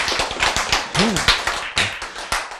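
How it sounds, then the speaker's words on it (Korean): Audience clapping during a Korean church sermon, a short burst of sharp, close claps in an uneven rhythm lasting a couple of seconds. "박수."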